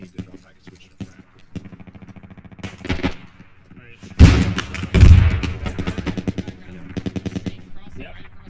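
Gunfire in the military shooter Squad: quick bursts of automatic rounds and single cracks, two heavy close blasts midway, more bursts after, with voices talking underneath.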